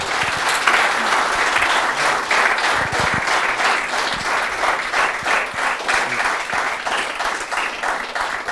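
A crowd gathered for a meal at a Royal Enfield motorcycle event breaks into sustained applause, loud and dense, holding steady for several seconds with no voices.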